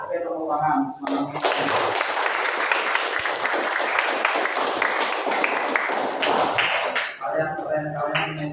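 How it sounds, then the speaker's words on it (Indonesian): A room full of people at a teacher-training gathering claps energetically for several seconds, with quick dense applause between stretches of a speaking voice at the start and end. "tepuk tangan semangat"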